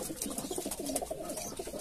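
A pigeon coos softly in a loft in Kolkata, a few rolling throaty calls in quick succession, close but quiet, with no one speaking.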